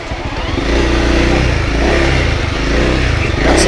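A Honda CRF300L dual-sport motorcycle riding down a hill on a trail, its single-cylinder engine loud and close with a rough, pulsing drone that rises slightly as it rolls.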